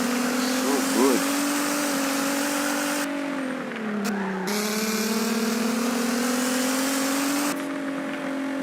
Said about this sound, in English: This is the most iconic V6 I can ever think of.